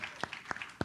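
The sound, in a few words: audience clapping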